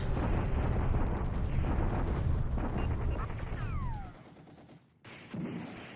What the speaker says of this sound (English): Bombardment at Brisbane.